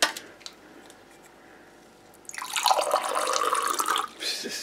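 Coke Zero poured into a cup for a fizz test, a soft liquid stream starting about halfway through and running steadily to the end, fairly close, with no speech.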